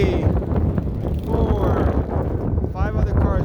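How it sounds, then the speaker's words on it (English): Strong wind buffets the microphone trackside before a car race, a loud, continuous low rumble with gusty swells throughout, and faint voices and tonal sounds in the background. "It's really windy."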